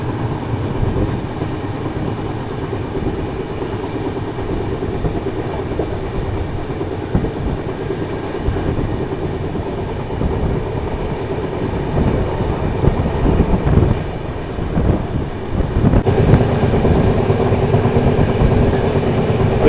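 Jhelum Express running through the Chambal valley area near Dholpur, a steady loud rumble of rolling wheels and wagons with rail clatter building slightly toward the end, no talk.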